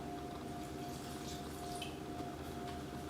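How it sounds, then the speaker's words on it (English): Water poured steadily into a mixing-grinder jar with green chili for coriander rice, a soft continuous trickle and gurgle heard close and alone in a home kitchen. "Pour about ½ cup of water."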